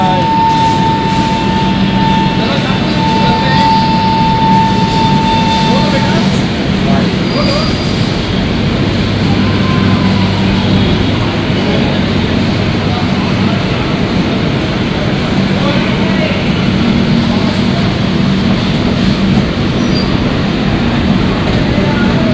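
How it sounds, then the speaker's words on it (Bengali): A Kolkata–Jaynagar express pulling out of platform three, a broad steady rumble of wheels and carriage noise filling the whole stretch, with a faint high tone early on. "তিন নম্বর থেকে ছাড়লো আমাদের ট্রেন অন টাইম 8:55"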